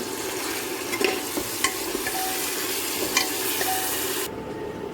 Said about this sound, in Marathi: यामध्ये आता चिकन आपण थोडं फ्राय करून घेऊया